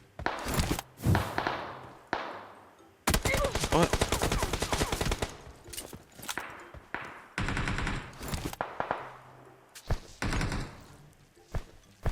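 PUBG Mobile gunfire rattles in rapid automatic bursts and single cracks, loud and close, with pauses between volleys.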